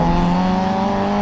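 Citroen rally car at the Prescott hillclimb, engine note steady and fairly close, a continuous harmonic drone holding through the moment with a slight rise at the end.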